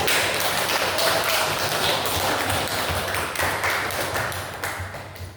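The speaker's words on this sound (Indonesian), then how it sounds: "kita supaya semuanya kasih tepuk tangan semuanya deh, supaya hebat" A classroom group applauds together, dense steady clapping from many hands that stays loud and close for about five seconds before easing slightly at the end.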